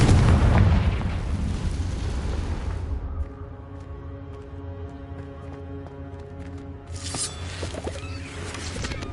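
A Confringo fire spell in the Hogwarts Legacy video game bursts with a loud, booming explosion that rolls into a long rumbling tail, then a second crackling blast swells near the end.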